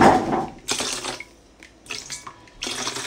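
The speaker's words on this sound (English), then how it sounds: "add some hot water" Hot water runs from a tap into a sink in intermittent splashing bursts, with drips and a clink of dishes between the pours.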